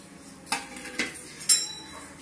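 Spiced meat gets stirred in a metal pan, the spoon knocking the pan three times in an even rhythm, close and fairly faint with no talking.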